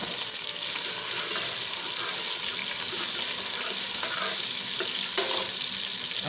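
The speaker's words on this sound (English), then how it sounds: "now I'm going to add my tomatoes." Tomatoes go into a frying pot for coconut fish head soup, giving a steady, close sizzle with stirring and light clatter throughout, no talking.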